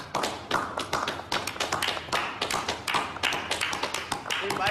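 Applause from an audience greeting Francisca from Montevideo, a steady patter of many hands clapping close and fairly loud for several seconds, with no voices over it.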